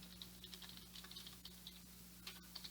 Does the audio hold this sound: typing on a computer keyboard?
yes